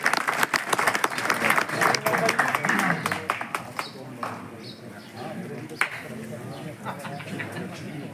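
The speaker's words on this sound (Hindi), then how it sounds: "मैं आज की सभा के अध्यक्ष को मनोनीत होने पर एक बार जोरदार तालियों के साथ" Loud, sustained applause from a crowd at a Bharatiya Kisan Union meeting during Holi, greeting the newly nominated chairman, tapering into lighter scattered clapping with birds and murmuring voices behind.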